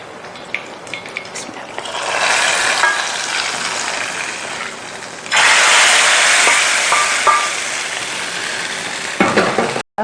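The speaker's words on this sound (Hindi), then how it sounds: "हम तड़का तैयार कर रहे हैं।" Spices and crushed chilies crackle and sizzle in hot oil as a tadka for daal makhni, a loud steady frying hiss that swells midway, close up.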